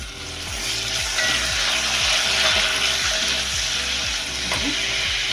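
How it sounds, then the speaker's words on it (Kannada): Cashews, almonds and raisins frying in hot ghee for sweet pongal give a steady, close sizzle with fine crackle, while a spoon scrapes and stirs the pan in regular repeated strokes. "ಈಗ ತುಪ್ಪ ಕಾದಿದೆ. ನಾನು ಇದರಲ್ಲಿ ಗೋಡಂಬಿ ಮತ್ತು ಬಾದಾಮಿನ ಸ್ವಲ್ಪ ದಪ್ಪ ಮಾಡ್ಕೊಂಡಿದ್ದೀನಿ, ಅದನ್ನು ಹಾಕ್ತಾಯಿದ್ದೀನಿ."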